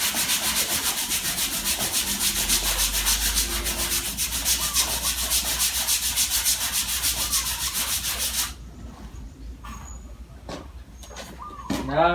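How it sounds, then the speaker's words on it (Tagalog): Hand sanding of body filler on a dented car panel with 120 grit sandpaper: steady, loud rhythmic rasping strokes for about eight seconds, then quieter with scattered short scrapes. "And now we're going to use sandpaper with the roughness of 120."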